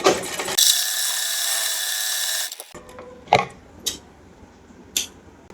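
A sewing machine stitches a salwar seam in one sustained whirring run of about two seconds, followed by a few sharp mechanical clicks and knocks nearby.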